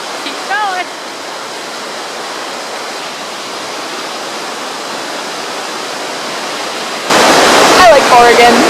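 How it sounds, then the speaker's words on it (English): A waterfall in Oregon roars steadily as continuous broadband rushing water, loud and close, with a person's voice briefly at the start and a louder surge near the end. "It's actually a great waterfall."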